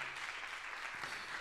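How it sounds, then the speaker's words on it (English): Audience applause at a church sermon, a brief burst of clapping hands heard from a crowd, steady and fairly loud for its short length. "Clap your hands, like that's powerful stuff,"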